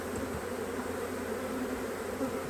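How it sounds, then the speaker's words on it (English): Honey bees swarm around a hive frame being shaken out, a dense continuous buzz close and fairly loud, steady throughout with no talk. "Shake the bees."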